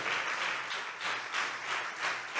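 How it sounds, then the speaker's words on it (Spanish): A church congregation applauds during a sermon, with sustained clapping that swells and ebbs in gentle waves and fills the whole moment with no voices over it. "Dale un aplauso a Dios."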